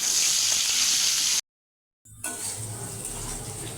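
Potatoes frying in hot oil with salt and turmeric while making an egg and potato curry, a steady loud sizzle that cuts out into a brief silence and then resumes slightly softer with faint stirring.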